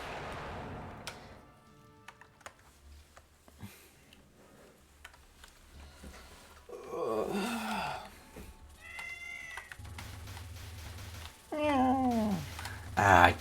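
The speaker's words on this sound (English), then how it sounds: "It's a cat." Cat meowing in short, rising and falling calls scattered between quiet gaps, close to the microphone, with some faint ticking and a voice talking nearby.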